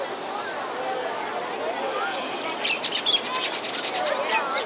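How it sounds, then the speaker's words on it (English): Exotic birds in Honolulu, Hawaii chirp and sing in bright, rapid bursts over a steady background hum, the calls growing busier and sharper toward the end. "Lots of birds, exotic birds."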